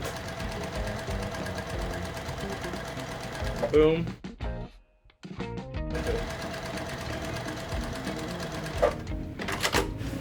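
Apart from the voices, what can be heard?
sewing machine stitching quarter inch seams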